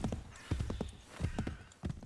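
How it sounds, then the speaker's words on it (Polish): A horse clip-clops along at a gallop in the video game Assassin's Creed 3, hoofbeats landing in an uneven rhythm over steady background game ambience. "O tak, pogalopujemy sobie."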